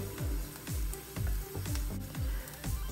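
Vegetables sauté in a pan for a vegan mixed bean soup. There is a steady, close sizzle, with regular scraping stirs of a utensil against the pan about every half second, and no voices.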